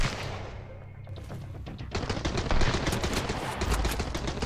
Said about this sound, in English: Okay, he does have a machine gun.